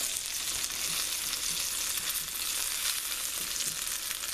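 Steak searing in a cast iron pan, a steady close sizzle with crackling spits running the whole time, no voices.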